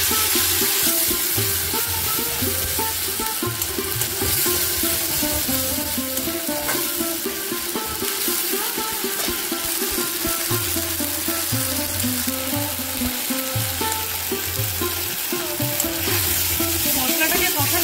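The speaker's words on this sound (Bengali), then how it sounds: "এটার মধ্যে বেটে নিয়েছি পেঁয়াজ, আদা, রসুন আর কাঁচা লঙ্কা। আচ্ছা, গরম হয়ে গেছে, আমি এবার এটা দিয়ে দেব।" A ground paste of onion, ginger, garlic and green chilli fries in hot oil for a prawn curry: loud, dense, continuous sizzling and crackling with some stirring throughout.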